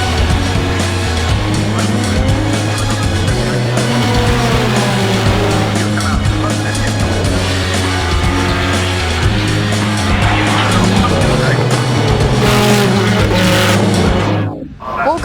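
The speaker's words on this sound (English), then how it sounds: "the championship final of the BTCC British Touring Car Championship" Touring cars racing in the British Touring Car Championship final at Brands Hatch, engines roaring loudly and continuously with shifting pitch as cars pass, tyre noise mixed in, a dense sustained din that drops away abruptly near the end.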